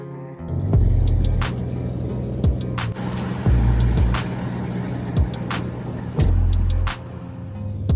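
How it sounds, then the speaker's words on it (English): A Buick Grand National driving on a short run, low engine rumble from inside the car with repeated swells as it accelerates, plus scattered clicks and knocks, steady and close. "So I'm just gonna take it on a quick run."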